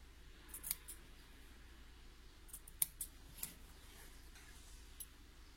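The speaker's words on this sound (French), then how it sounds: "on va venir avec son ciseau. Et on fait des petites entailles jusqu'à la couture." Scissors snip small notches into a fabric seam allowance while sewing the facing of a shirt, a few faint, sparse clicks spaced irregularly over a quiet background.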